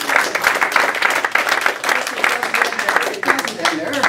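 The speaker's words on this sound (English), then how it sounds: "I think she gets a big round of applause." An audience at a mentalism competition act bursts into loud, dense applause that holds steady throughout, with talk mixed into the clapping.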